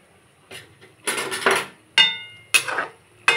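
Fried parshe fish are set one by one into a pan for a kalo jeere and green chilli curry, giving a few sharp metallic clinks and clatters of utensil against pan, spaced apart, with no talking.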